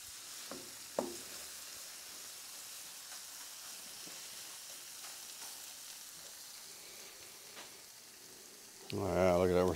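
Breakfast sandwich buns toast on a griddle with a faint, steady sizzle and a couple of soft clanks, before a burst of talk near the end.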